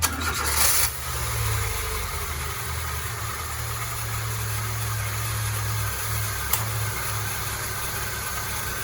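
A Peugeot Partner's 1.4-litre engine cranks briefly and catches, then settles into a steady low idle hum that continues evenly, with one small click partway through.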